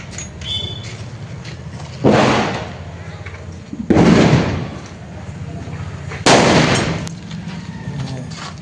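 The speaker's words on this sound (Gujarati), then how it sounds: "અત્યારે ફટાકડા ફોડવાનું શરૂ કરી દીધું છે" Firecrackers set off during Diwali: three loud broadband bursts, each lingering with a short rumbling tail, spaced a couple of seconds apart over a steady outdoor background hum.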